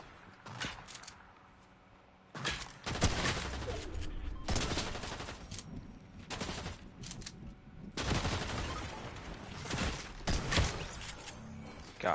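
Repeated bursts of video game gunfire, some sustained like automatic fire, crackle loudly in separate volleys across the stretch with brief quieter gaps between them.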